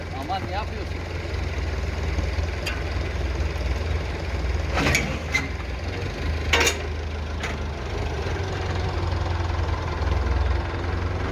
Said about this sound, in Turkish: Gördüğünüz gibi kendi traktörüyle alıyor, geliyor, kepçesiyle geliyor